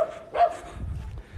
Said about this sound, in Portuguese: escuta os cachorros.